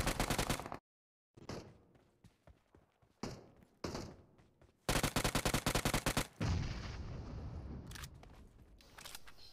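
Gunfire in PUBG Mobile: loud bursts of rapid automatic shots and single cracks, broken by short silent gaps, ending in a sustained burst with continuing noise.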